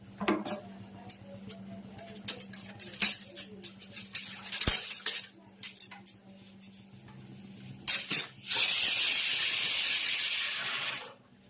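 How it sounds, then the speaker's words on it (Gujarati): A few scattered clinks of utensils, then a sudden loud burst of sizzling that hisses steadily for several seconds as spices hit hot oil for tempering kadhi. "અને કઢીનો વઘાર ચાલુ છે"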